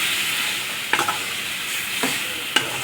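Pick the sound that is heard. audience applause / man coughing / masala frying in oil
masala frying in oil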